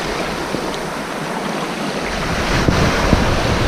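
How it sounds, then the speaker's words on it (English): Small, gentle waves roll onto Eastbourne beach, shingle onto sand, on a calm winter day, a continuous close wash of surf with some rumbling buffeting that grows slightly louder toward the end. "Nice little ripply waves rolling in."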